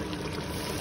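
Water poured into a pot of Jamaican oxtail soup, a steady close rush of liquid that keeps the same level throughout the short moment.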